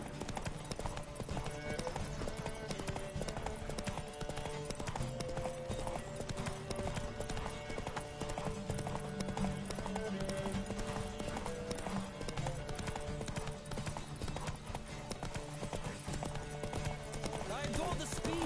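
A horse gallops in The Witcher 3 with a constant fast drumming of hooves over game music and ambience, close and steady throughout, with a voice talking over it.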